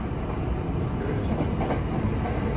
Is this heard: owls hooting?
no